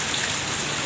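Steady rain falls in Makassar, a constant, loud wash of drops with no break or other sound.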